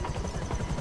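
Helicopter in a video game, a steady low rotor thrum and engine buzz holding at even loudness throughout, close and unbroken with no talk over it.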